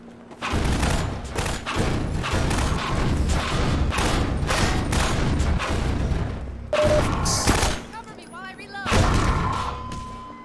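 Rapid gunfire from Half-Life 2, a dense loud run of shots with heavy thuds that continues for several seconds, pauses briefly, then resumes with mechanical clicks, and a voice talks over part of it.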